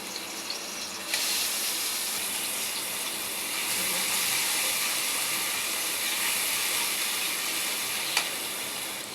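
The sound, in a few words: frying onion, ginger and garlic paste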